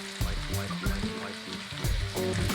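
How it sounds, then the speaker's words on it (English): Bacon browns in a pan for a Bolognese sauce, crackling and sizzling in steady bursts, with light clattering of a utensil moving it around nearby. "I'm just going to finish browning my bacon"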